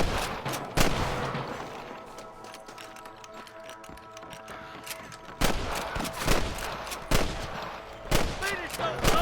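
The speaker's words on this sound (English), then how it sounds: "Damn fine shooting, boys." Gunfire in Red Dead Redemption, sharp single shots and short volleys, loud and close, spaced irregularly across the firefight with quieter stretches between, over faint background game sounds.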